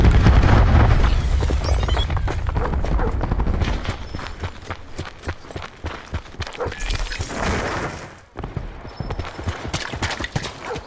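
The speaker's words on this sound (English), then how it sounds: "Hostile cluster grenade." A cluster grenade goes off in Call of Duty: Black Ops 4 team deathmatch on the Militia map, a loud string of booming blasts and crackling bursts layered over busy in-game gunfire and action.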